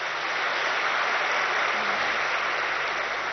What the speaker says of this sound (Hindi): सब टीचर्स पास है, तो सब ताली बजाओ